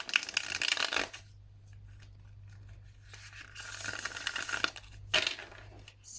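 Tarot cards are shuffled in quick papery riffles, in a burst at the start and another later on, with a soft low hum beneath and no speech.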